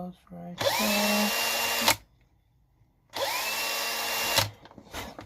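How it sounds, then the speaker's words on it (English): Power drill boring holes in a panel for a Eurorack amplifier module, two sustained whining bursts of about a second and a half each, loud and close, with a short pause between and brief talk at the start. "Drill 3 holes right there."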